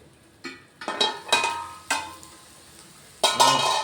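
Bitter gourd and onion stir-fried in a pan, a handful of scraping stirs with a light sizzle between them, close and clear with no talking.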